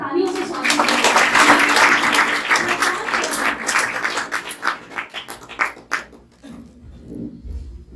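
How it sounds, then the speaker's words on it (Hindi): A seminar audience of teachers claps to welcome the chief guest. The clapping starts loud and dense, then thins into scattered claps and fades out, with a voice entering near the end. "आप लोग एक बार जोरदार तालियों से स्वागत करें।"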